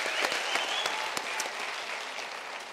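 Steady applause from a graduation audience of human sciences and law graduates and guests, a dense, even wash of clapping that holds at moderate level throughout.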